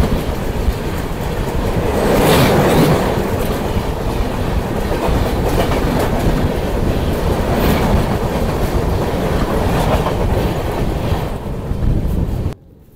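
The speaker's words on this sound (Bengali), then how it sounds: "এটা হচ্ছে টাটানগর আড়া এক্সপ্রেস।" The Tatanagar–Ara Express rushes past at close range, a loud, continuous roar with rhythmic clickety-clack of wheels over rail joints and wind buffeting the microphone, cutting off abruptly at the end.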